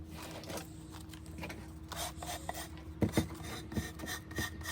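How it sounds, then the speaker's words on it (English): A nail file is rubbed along the edge of a wooden cutting board in faint, quiet scraping strokes with a few soft taps, close up. "press down with the nail file when I'm on the downward motion"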